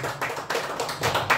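An audience claps at a Botadkar Sahitya Sabha poetry gathering, a soft, steady patter of applause with scattered louder bursts.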